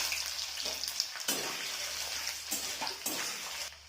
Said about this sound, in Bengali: আর একটু নারকেলটা আমি ভেজে নিচ্ছি।